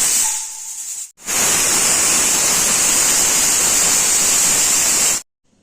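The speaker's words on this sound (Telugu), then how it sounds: "మూడు విజిల్స్ తర్వాత కుక్కర్ మూత తీసి" A pressure cooker cooking dal with brinjal lets off a loud, steady steam hiss for about four seconds and then cuts off abruptly.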